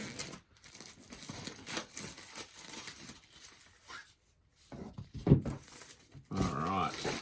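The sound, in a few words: tearing open shrink wrap on a board game box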